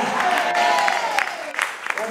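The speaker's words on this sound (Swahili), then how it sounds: "Pe Bwana Yesu makofi mengi." A church congregation claps hard during a fervent Swahili sermon, a dense wash of applause that runs the whole two seconds with raised voices and calls mixed in.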